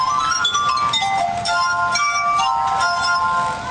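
Water-tuned drinking glasses played as a chromatic musical instrument ring with sustained, overlapping bell-like tones, a steady flowing melody heard close and clear without speech.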